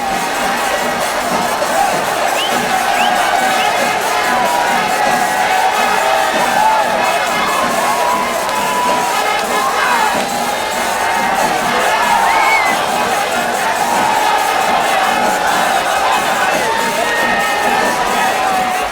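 A large festival crowd roars and cheers continuously at Thrissur Pooram during the Kudamattam umbrella exchange, a dense, sustained wall of shouting and whoops with no break.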